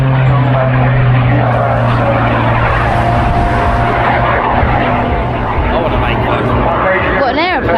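A propeller aircraft at an air show drones loudly and steadily nearby, its engine tone holding throughout with a rising whine near the end; voices talk underneath.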